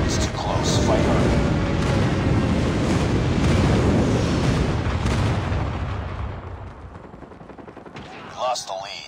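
Explosions from an enemy airstrike rumble continuously in a Call of Duty Mobile domination match, a dense roar layered with gunfire that fades after several seconds, under game announcer callouts.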